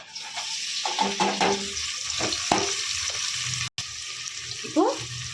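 Large chopped onions hit hot oil in a pan for mutton curry, giving a moderate hissing fry with scattered clinks and stirring knocks and a short break near the end.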